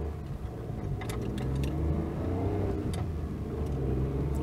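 A small Daewoo Tico city car's engine hums steadily at close range while driving, a low continuous drone with a few brief higher clicks and rattles over it and no talking.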